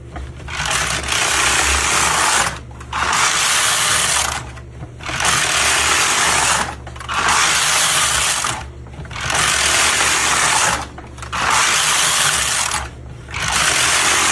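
A Hamanaka needle knitter knitting machine stitches with a loud, steady mechanical whir, broken into about six bursts by short pauses as the carriage runs back and forth across the front and back beds.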